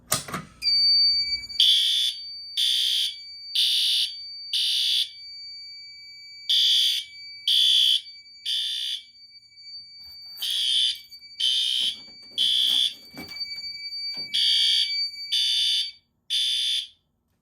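An Edwards Genesis fire alarm system under test, with older Edwards smoke and Chemitronics heat detectors on the loop, sounds loud, shrill synchronized horn blasts in repeated bursts of four with pauses, and no talking.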